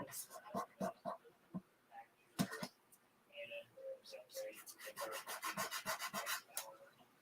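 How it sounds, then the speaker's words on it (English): A Chalk Couture transfer is burnished onto a handmade index card journal, making close, soft rubbing strokes in quick repeated bursts. Someone talks over the scraping. "Okay, so then I'm going to burnish."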